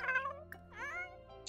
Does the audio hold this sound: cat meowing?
yes